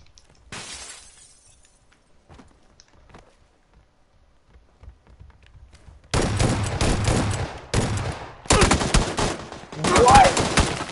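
Near-silence with a few faint ticks gives way to loud, close bursts of Uzi and shotgun fire in PUBG on PS4 Pro. Several heavy volleys are broken by short gaps, and there is a glassy, shattering edge among the shots.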